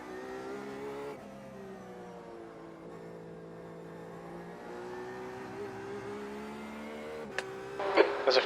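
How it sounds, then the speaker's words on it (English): Race car at the Sebring circuit, a steady engine drone with a shift in pitch around the first second and a sharp burst near the end as a faster car closes in, heard from inside the cockpit. "There's a faster car approaching."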